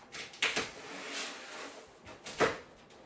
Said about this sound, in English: That's the sound of one of my cats knocking over the litter box.